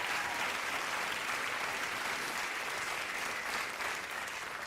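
A crowd at the Occupy LA protest applauds and cheers in a steady, sustained wash of clapping heard from some distance, holding an even level throughout.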